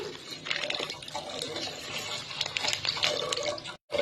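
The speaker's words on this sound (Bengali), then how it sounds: "চালের মধ্যে দুধ দিয়ে দিচ্ছি" Milk pours steadily into Gobindobhog rice in a cooking pot, a continuous liquid splashing and gurgling that stays fairly loud for several seconds before a brief cut near the end.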